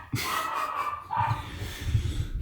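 A dog barks continuously nearby, with loud, drawn-out yelping barks in quick succession and little pause between them.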